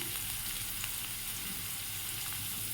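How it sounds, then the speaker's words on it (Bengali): Onions and tomatoes sizzle steadily in a hot pan, a dense, even hiss filling the short stretch with no voices over it. "পেঁয়াজ টমেটো দিয়ে দিলাম"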